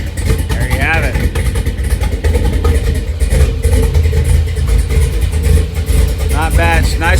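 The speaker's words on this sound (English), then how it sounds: "It's nice and loud now. Really peppy with that BTR Stage 3 cam." A Pontiac GTO with a BTR Stage 3 cam and upgraded fuel system runs loud and lumpy, its engine droning steadily with occasional revs while someone talks over it throughout.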